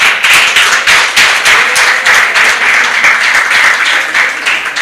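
Audience applause at the FIDA-Kenya annual conference opening ceremony, honoring Mercy Okiro, chair of the National Construction Authority Board: dense, loud, sustained clapping from a large crowd lasting throughout, with no speech.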